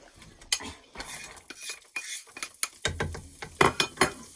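Chopped onion being stirred in a pan on the stove with a utensil, giving irregular scraping and clinking knocks of metal against the pan over a quiet background, no speech.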